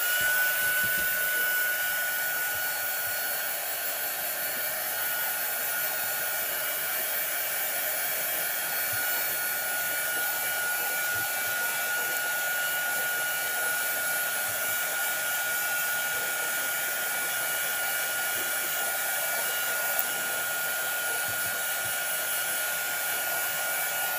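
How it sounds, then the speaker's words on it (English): Heat gun blowing steady hot air over alcohol ink painted on a ceramic Christmas tree, a continuous close whooshing drone that holds evenly from start to finish with no talk. "Now I'm going to grab my heat gun real quick."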